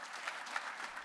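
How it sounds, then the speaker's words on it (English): An audience breaks into applause, a brief, even wash of many hands clapping at a moderate distance. "Please give all of them a round of applause."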